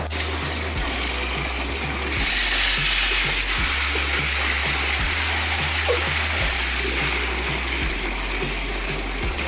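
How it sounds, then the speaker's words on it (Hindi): A village tubewell pump near Gujranwala runs continuously, throbbing with a steady rhythmic motor pulse beneath a broad rushing gush of pouring water, loud and close, with no talk. "ट्यूबवेल का चल रहा है"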